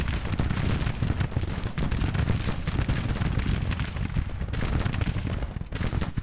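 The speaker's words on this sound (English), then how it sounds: "We shall bombard the rest of their lines." Heavy, continuous barrage of gunfire and artillery explosions in the Grand Tactician battle simulation, with dense overlapping booms and crackling shots filling the whole span at loud, steady intensity.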